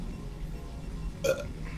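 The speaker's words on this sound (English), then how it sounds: "burp" A single short burp from a man during a livestream of a Brood War game, brief and fairly close over a low background hum.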